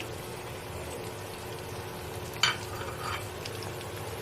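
Mutton curry being stirred in a pan: a low, steady background sizzle with a single sharp scrape or clink of the utensil midway, faint and close, with no talking.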